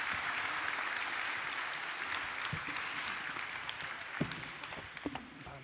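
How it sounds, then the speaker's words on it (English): A conference audience applauds panelists at the close of a child labour elimination session, with steady, fairly soft clapping from a large hall and a few sharper claps standing out near the end. "Can I please ask you to give my panelists a round of applause?"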